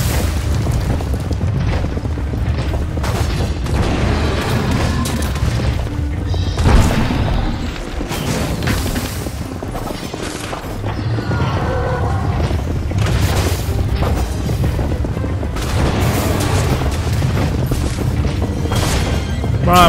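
Bomb explosions in the video game Minecraft Dungeons go off as a loud string of booming blasts and crashes over about twenty seconds, close and dense, with brief speech between them.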